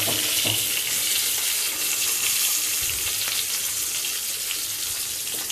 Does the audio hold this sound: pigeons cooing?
no